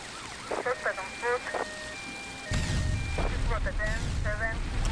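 An electronic ambulance siren in GTA Vice City warbles in short rising bursts over game engine noise, with a low roar swelling halfway through and a voice briefly heard.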